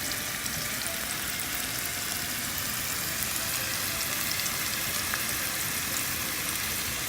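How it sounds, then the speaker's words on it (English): Onions, garlic and fresh basil fry in avocado oil in a pan, giving a steady, even sizzle that holds close and moderately loud with no talking. "You just want to heat through the onions, soften up your garlic a little bit"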